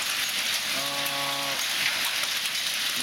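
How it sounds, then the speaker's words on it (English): Ice rain falling in spring, a continuous dense hiss of sleety drops striking surfaces, with a brief harmonic tone briefly riding over the steady patter. "This is a different rain at this moment."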